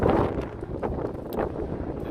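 Wind gusts across the open flight deck of the Intrepid Sea, Air & Space Museum in New York City, a steady broadband rush buffeting the microphone, strongest at the start, with no voices.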